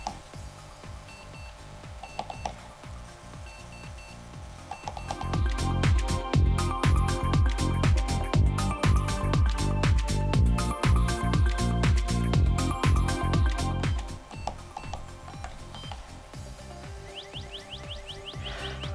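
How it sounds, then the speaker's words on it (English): A Simple Simon geocache puzzle box beeps out its combination as a rapid run of bright electronic tones, loud and close. Quieter clicks and beeps come before and after the run. "it's going to beep out the combination starting off from the red, green, blue, yellow"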